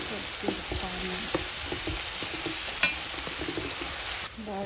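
Onion frying in a pan for veg Manchuria, a steady close sizzle with scattered light clicks and scrapes from stirring throughout, no voices.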